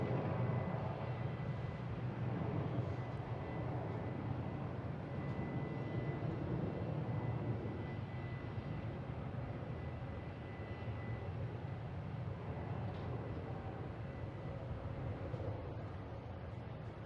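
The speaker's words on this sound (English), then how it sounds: "And now we got a Southwest taking off, heading to Chicago Midway." A Southwest Boeing 737 takes off from Boston Logan bound for Chicago Midway, a sustained broadband jet rumble holding strong and even for many seconds before easing slightly toward the end, with no talking.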